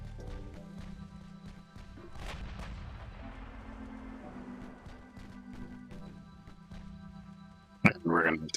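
Heavy high-explosive naval shells firing from warships in a 1920-era naval battle game, with deep booming reports and low rumble, a sharp loud blast near the end, and someone talking over the gunfire.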